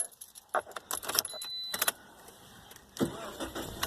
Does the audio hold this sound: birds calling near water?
no